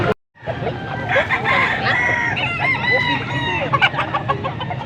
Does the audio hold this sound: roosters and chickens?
yes